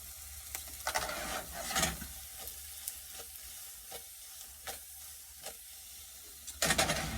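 Fried rice sautés in a pan with a soft, steady sizzle, broken by several sharp scrapes and stirring clatters. The final clatter is louder. No one speaks.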